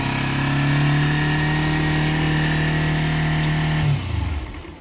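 A 2010 Kawasaki Ninja 250 motorcycle engine idles steadily and loudly up close with the choke on after sitting unused for a long time, then cuts off abruptly near the end.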